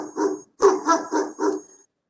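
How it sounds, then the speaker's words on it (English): A dog barks in a quick series of five close, loud woofs, with one bark, a short pause, then four evenly spaced barks, heard alone without other sounds. "So here just the sound of a barking dog."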